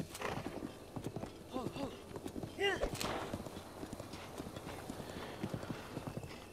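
Horse hooves clip-clop in Zelda: Breath of the Wild in a quick, steady rhythm throughout, with a short whinny partway through and a busy game backdrop behind.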